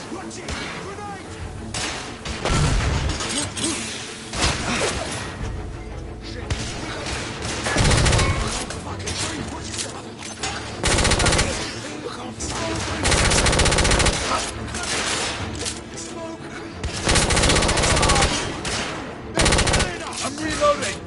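Sustained machine-gun and rifle fire in the video game The Order: 1886 rattles on during an intense firefight. Dense, loud bursts and impacts continue almost without pause amid battle noise and shouting voices.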